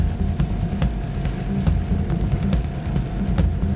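Steady rain pattering outdoors at a landscape photography shoot, a continuous dense wash of small scattered drops with occasional sharper taps, close and moderately loud, with no voices.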